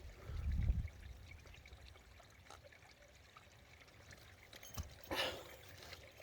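Clean mountain spring water trickles over ferns in the Extremadura hills. A low rumble comes first, then a faint, uneven pouring and dribbling with brief splashy bursts.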